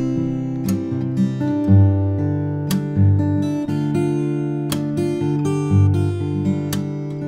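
Fingerstyle acoustic guitar plays the chorus of a song, with plucked chords and a clear melody ringing out in a steady, moderate rhythm, close and alone with no talking.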